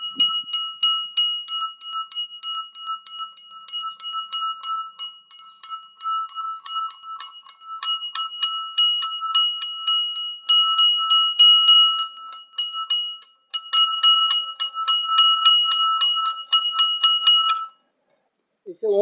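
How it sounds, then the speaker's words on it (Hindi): Small temple bell rung by hand in rapid, steady strokes, bright metallic tones repeating for most of the clip with brief pauses, close and clear, before stopping abruptly. "इस घंटी का आवाज आएगा"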